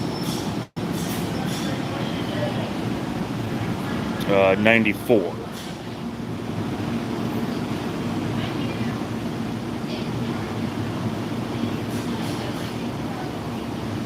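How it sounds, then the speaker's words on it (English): A late-running Boston-bound train pulls into the Newark Airport rail station, with a steady rumbling roll and a brief rising wheel squeal partway through, heard nearby under people talking. "this is the 10-minute late Boston train."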